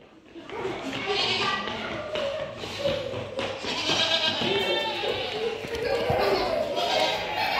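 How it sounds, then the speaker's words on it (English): Goats in the farm barn at Banham Zoo bleat several times amid thumps, taps and background chatter and children's voices, the animals fairly close. "Here we have some goats."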